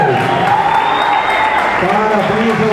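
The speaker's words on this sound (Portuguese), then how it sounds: "Esses também merecem uma salva de palmas" Applause for two fighters after a three-round bout at the Arena Sombra Fight 2 combat event, a steady wash of clapping that runs throughout with a voice talking over it.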